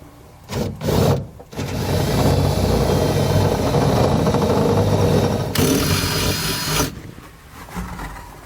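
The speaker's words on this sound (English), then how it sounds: "we're just going to take our 3/8 drill bit, go in the hole that we had made" A power drill with a 3/8-inch bit drills out a hole in metal, whirring in a couple of short bursts, then grinding continuously for several seconds, its pitch shifting partway through before stopping.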